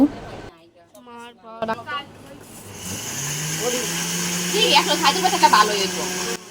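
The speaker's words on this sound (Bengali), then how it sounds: "ব্লেন্ডার করতেছে মশলাপাতি" An electric blender grinding spices during wedding cooking preparations, a rising motor whine building over several seconds beneath nearby talk and background chatter.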